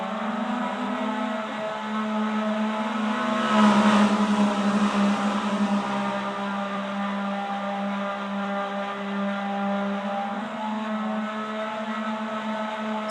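IndyCar race cars roar around a track in a racing video game, a continuous loud engine drone with a swell as cars pass close, no talk over it.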